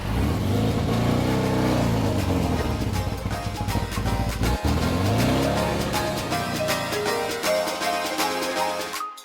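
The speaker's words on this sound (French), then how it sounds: "Je vais démarrer ce buggy, je vais le garer" A Volkswagen dune buggy over 30 years old, built on a Beetle chassis with a 1.6 litre engine, revs loudly and close by in repeated rising and falling sweeps. Occasional sharp clicks punctuate it before the engine settles into a lower steady note.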